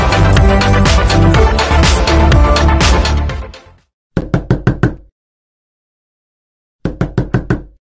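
Knocking on a wooden door in an indoor drama scene: a dense run of loud, rapid raps, then after a pause a quick burst of about five knocks, and another similar burst after a longer silence.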